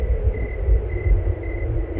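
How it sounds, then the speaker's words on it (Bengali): Thunder rumbles low and continuous through a stormy night in a ghost story, a dull, heavy roll that swells and fades without a clear crack. "আবার ঝড় শুরু হচ্ছে বিদ্যুৎ চমকাচ্ছে গুড় গুড় শব্দ তুলে"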